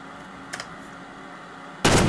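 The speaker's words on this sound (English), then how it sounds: "Gunshots sound like someone's punching a plank of wood." Gunfire from the Half-Life: Delta Particles game mod: a couple of faint, quick thuds early on, then a loud burst of broadband noise near the end that sounds like a close shot.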